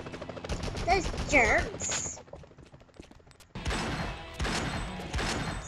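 Police gunfire in the Spider-Man PC game, rapid bursts of automatic shots crackling near and loud, pausing briefly then resuming in dense volleys, with a voice speaking over the opening shots.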